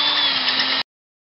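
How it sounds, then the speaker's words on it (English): A power drill whines steadily up close for under a second, drilling out holes in a RepRap Huxley 3D printer part, then cuts off abruptly into silence. "Gotta start drilling out all these holes so I can get the smooth rod in."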